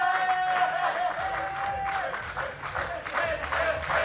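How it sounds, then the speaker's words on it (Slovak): A festival audience applauds a band, with steady clapping from a moderately distant crowd and some voices mixed in. The applause is fairly quiet. "veľký potlesk"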